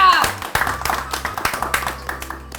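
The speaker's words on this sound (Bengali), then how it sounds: "তালিয়া" An audience in a village drama claps briefly after a prize announcement, a short burst of scattered, fairly loud hand claps.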